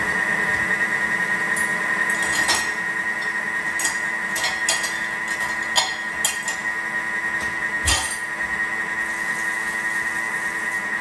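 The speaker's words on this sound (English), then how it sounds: "just closing up the lid and giving that a mix on speed 4 for 20 seconds" A Thermomix mixes cake batter on speed 4, its motor holding a steady whirring tone with irregular clinks and taps on top, running alone at close range.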